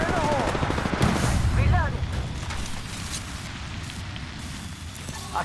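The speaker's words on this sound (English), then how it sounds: "Listen up, I'm getting shot at." Bursts of automatic gunfire from the video game Apex Legends rattle continuously amid a loud, cluttered game mix, with a voice talking over the shooting.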